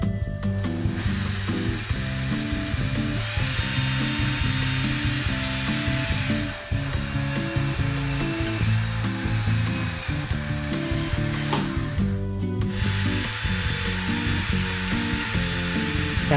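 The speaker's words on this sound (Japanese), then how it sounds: "パイプをカットしたら電動ドリルを使い、水をシャワーにして流すための穴を開けていきます。" An electric drill bores holes in a plastic pipe for an aquarium shower outlet, a steady high whine with two brief pauses between holes.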